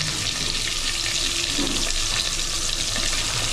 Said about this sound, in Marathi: लसूण टोमॅटोची फोडणी दिली आहे